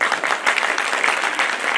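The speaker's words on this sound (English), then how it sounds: "with your huge applause" Applause from a conference audience at a bioethics event, a steady dense patter of many hands clapping at close range, with no talk over it.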